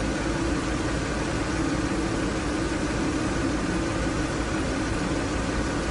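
A Subaru SVX engine idles steadily during an idle speed check, a constant even hum and drone holding without change or variation from start to finish, with no voices.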